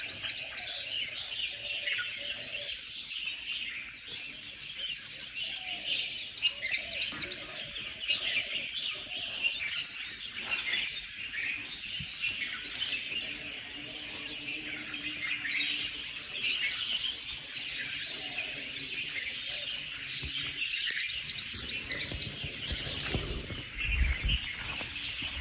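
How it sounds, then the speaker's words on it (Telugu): Many birds call and chirp continuously in wooded hills near a Shiva temple near Anakapalli, a steady chorus of overlapping tweets at moderate distance with no talk. "ఆ పక్షులు చూడండి ఎలా సౌండ్ చేస్తున్నాయో"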